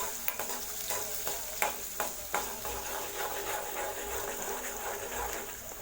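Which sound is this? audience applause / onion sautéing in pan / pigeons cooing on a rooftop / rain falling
onion sautéing in pan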